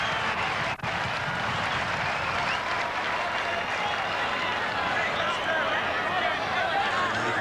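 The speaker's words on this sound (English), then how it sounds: "he's getting a big round of applause" Stadium crowd applauding at the 1986 National Panasonic Cup rugby league final between Parramatta and Balmain, a continuous broad wash of clapping and crowd noise heard from a distance, with a commentator speaking over it.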